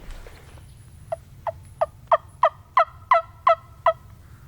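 A wild turkey gobbler near its roost ridge in spring season gobbles in a rapid, loud series of about nine sharp pulses, each rising in strength, over a quiet low rumble of outdoor background.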